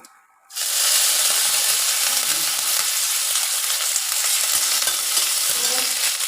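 Urad dal, fennel and curry leaves hitting hot oil in a tempering, a brief quiet moment and then a sudden loud, crackling sizzle that holds steady and close, with no talking.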